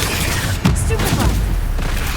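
A Stupefy spell is cast in Hogwarts Legacy, a loud dense magical blast with a sharp burst near the middle over a continuous rumbling game soundscape.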